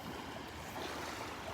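Gentle surf washing onto the beach at Delnor-Wiggins, a soft, continuous hiss of breaking water with no voices, fairly quiet and even.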